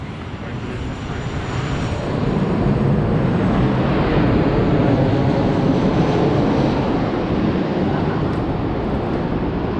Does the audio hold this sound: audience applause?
no